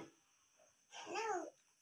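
A small child imitates a cat's meow in a village home, a single rising-and-falling mew of about half a second, close and soft after a brief quiet pause.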